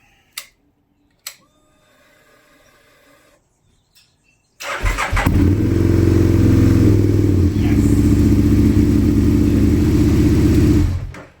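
A motorcycle engine, just refuelled, cranks a few times with faint clicks, then catches and roars into a loud, steady idle close by, outdoors on a canyon road trip.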